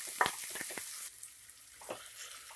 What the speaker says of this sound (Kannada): ಈರುಳ್ಳಿ ಕಲರ್ ಚೇಂಜ್ ಆಗಬೇಕು, ಅಲ್ಲಿ ಗಂಟ ಫ್ರೈ ಮಾಡ್ಕೊಳ್ಳಿ.